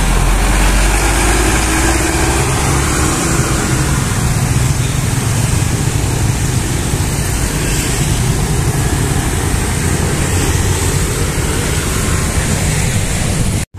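Intercity bus engine accelerating on an Indonesian road, heard as a loud, continuous heavy engine roar close up, steady throughout with a broad rushing noise and no speech.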